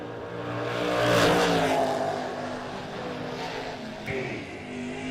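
Drag racing cars, a 57 Chevy and a 92 Camaro, roar down the strip, engines swelling to a loud peak then fading into the distance, with a brief clunk near the end.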